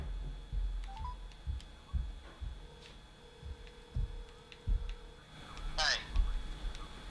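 Cell phone keypad tones during an accidental redial, a few short faint beeps and a tone under ambient noise and thumps, with a brief louder chirp near the end.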